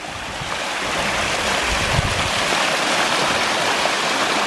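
Water pours steadily down an artificial rock grotto waterfall, a loud, continuous broadband rush without pause.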